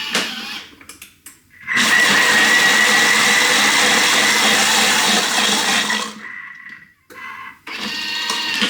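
A blender whirs loudly and steadily for several seconds as it purees liquid Korean fried chicken sauce ingredients, starting and stopping abruptly, with brief clatter before and after.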